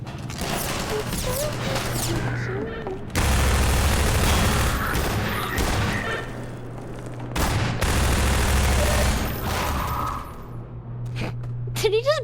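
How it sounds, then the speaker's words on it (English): Grenade blasts and gunfire in a video game form dense bursts of crashing, rattling noise in two long loud stretches, with quieter game sound and talking between them. "Did he just blow himself up with his own grenade?"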